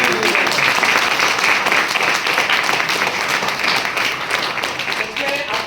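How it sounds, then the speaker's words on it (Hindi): A loud, dense burst of audience applause fills a large motivational seminar hall in Kanpur, steady for several seconds with crowd noise mixed in and no clear speech on top. "एक बार जोरदार तालियां चाहूंगा"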